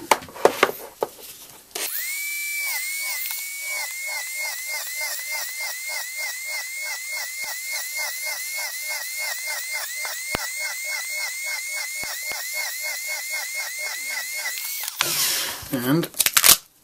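Power drill with a drill bit drilling a row of holes along a grid while setting up a tarantula sling enclosure, a steady run of short rhythmic bursts held close and loud for about thirteen seconds, with brief handling noise before and after.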